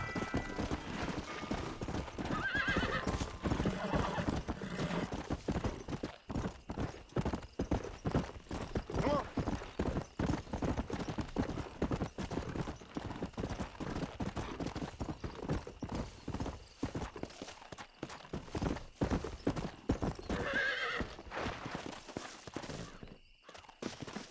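Horse hooves clip-clop at a steady gallop in Red Dead Redemption, loud and close throughout, with occasional whinnies and bursts of game noise layered over the rhythmic beat.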